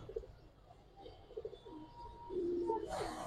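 Giribaz and silver pigeons give soft, throaty coos in short pulses, building to a longer, louder coo toward the end, followed by a brief burst of noise.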